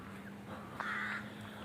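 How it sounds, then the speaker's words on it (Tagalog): A single crow caws once from a treetop, a short harsh call set against a quiet outdoor background with a steady low hum on a rocky trail in Wexford, Ireland. "May uwak sa tuktok."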